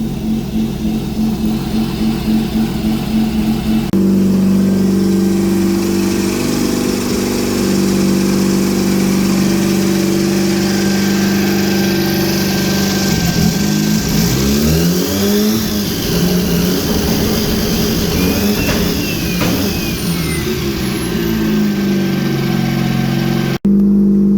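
A turbocharged 12A rotary engine in a Datsun 1200 idles roughly, then is revved hard over and over, loud and close, with a brief drop near the end and no talk.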